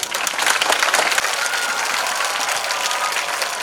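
Sustained loud applause from a crowd at a school Independence Day celebration, dense clapping that continues unbroken from start to finish.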